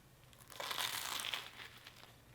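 A bite taken into air-fried bacon and egg toast gives a short burst of crisp crunching and crinkling at close range, soft and brief, with no talking over it.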